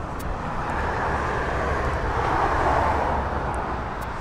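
An airplane coming in to land at East Midlands Airport makes a steady broad roar that swells gently, heard from a distance outdoors with no talk.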